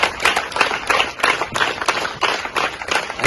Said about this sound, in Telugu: సార్ని అందరూ గుర్తించుకుని ఆయనకి చప్పట్లు కొడదాం అందరూ.